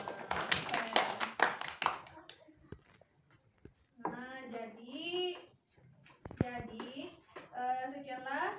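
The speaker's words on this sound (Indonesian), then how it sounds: "Mari kita tepuk tangan untuk kita semua" A class claps together in a quick burst of hand claps at the start, followed by children's voices and a spoken adult voice.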